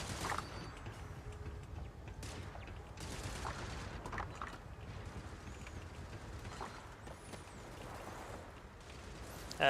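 Turrets in Starfield open fire in a distant, muffled series of shots and mechanical clatter, staying fairly quiet beneath the game's background ambience.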